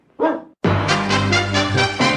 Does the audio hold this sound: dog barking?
yes